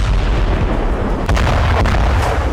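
Artillery and mortar fire in the war in Ukraine's Zaporizhzhia region rumbles as a dense, loud barrage, with deep booms and a couple of sharp cracking bursts partway through, no voices present.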